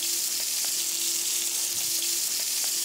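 Lamb pan-frying in olive oil with a little butter, a steady close sizzle with faint crackles running through without pause.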